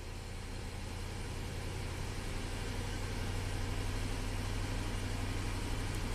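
GM truck engine with a misfire running at slightly raised RPM, a steady, even low hum heard close up with no talking.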